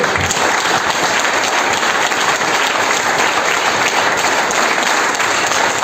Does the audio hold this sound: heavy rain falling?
no